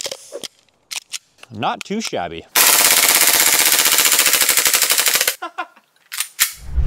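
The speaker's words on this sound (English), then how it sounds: "now let's see how fast this guy will empty the rest of the magazine" A full-auto airsoft pistol empties the rest of its magazine in one rapid, continuous burst of close, sharp clicking shots lasting about three seconds, with someone talking briefly before and after.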